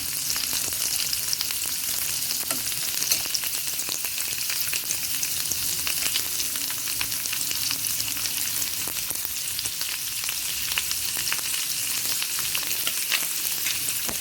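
Meat sizzles loudly as it browns in a frying pan, a dense, continuous crackle with frequent sharp pops and spatters throughout, close up and with no voices.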